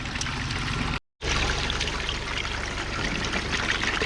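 River sample water runs steadily through a gold cube sluice, a continuous close rushing trickle, briefly cut off for a moment near the start before flowing on.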